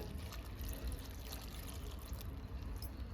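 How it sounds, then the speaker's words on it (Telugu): Water pours steadily into a pressure cooker pot of gongura dal, a soft continuous splashing and trickling, close and fairly quiet. "తర్వాత ఒక గ్లాస్ వాటర్ వేస్తుండా నేను"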